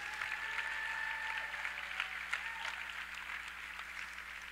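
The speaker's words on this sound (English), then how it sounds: "One more time, a round of applause for all the seniors, Antoine Davis, Kevin Leatherwood, Ray Lockl" Audience in a gym applauding graduating basketball seniors at a Senior Day ceremony. The clapping is distant and soft, a steady scattered patter with a faint tone running underneath.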